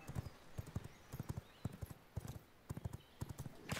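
Horse hooves clip-clop in quick, regular pairs of clattering steps in the V Rising video game, a brisk galloping rhythm at moderate distance, heard alone without talking.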